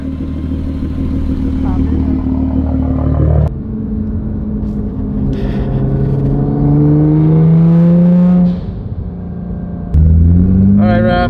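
A Nissan GTR drives past with a loud, close engine rumble that climbs in pitch as it accelerates and fades, then a second revving pass starts near the end.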